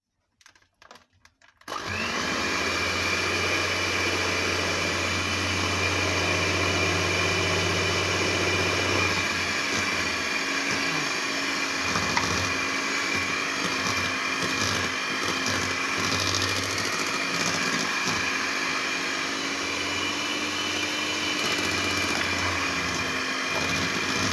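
An electric mixer whirs continuously at high speed, beating eggs into petit four batter; the steady loud motor drone starts abruptly after a short quiet moment and runs without speech.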